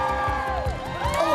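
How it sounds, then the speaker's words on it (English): A crowd gathered on an outdoor plaza outside the TODAY show studio cheers and whoops, a dense, loud wash of many voices with excited shouts rising over it. "There's a plaza crowd on this Hump Day Wednesday"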